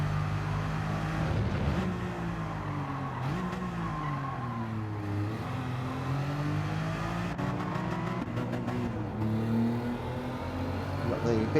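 Race cars in the video game Gran Turismo 7 roar steadily at high revs, engine pitch rising and falling through gear changes with tire skids, loud and continuous throughout.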